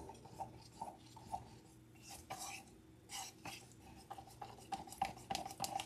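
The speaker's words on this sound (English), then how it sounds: "Now make sure you mix it up really good." Resin being stirred in a cup, with soft scraping and tapping of the stirrer against the sides in an irregular rhythm, faint and close.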